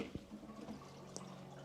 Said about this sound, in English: and you can hear the water